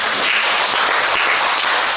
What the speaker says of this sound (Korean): 박수 한번 해주시기